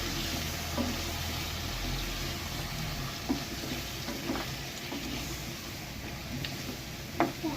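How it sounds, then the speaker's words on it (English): Diced ripe tomatoes hitting a pan of mutton and radish curry give off a steady, moderate sizzle with a few soft stirring clicks and scrapes, and no voices. "And also add along with this 400 grams of tomato, diced tomato."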